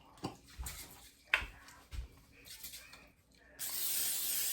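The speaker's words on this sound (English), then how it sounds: "Just to spray it so nothing sticks to it." A few short, sharp sprays and clicks, followed by a steady hiss of aerosol spray near the microphone.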